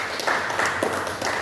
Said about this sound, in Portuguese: você pode aplaudir o Senhor bem forte, por favor?